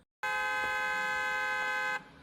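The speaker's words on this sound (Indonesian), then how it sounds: "seorang laki-laki terus-terusan membunyikan klakson di mobilnya" A car horn gives one loud, sustained blast of under two seconds, close and alone, cutting off sharply into quiet.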